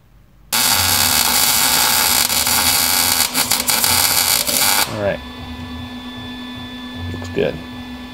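A welder lays a bead on a 3/16 steel filler plate fitted into a truck's front end, a loud, steady crackling buzz that starts abruptly and runs about four seconds. It then cuts off, leaving a low hum and a few faint handling noises.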